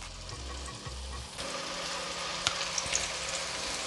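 Potatoes frying in a pot for a spicy curry mutton dish, giving a steady, close sizzle with a low rumble of handling at the start and a few sharp pops and clinks later on.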